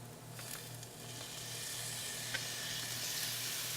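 Garlic sizzles in a pan of translucent onions during venison Parmesan prep, a steady close crackling hiss with a low hum beneath and a few sharper pops.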